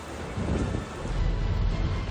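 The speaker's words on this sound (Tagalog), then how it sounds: "Wala ring patid ang buhos ng ulan" Strong wind roars with a steady wash of heavy rain in Quezon City, a dense continuous rumble throughout with no voices.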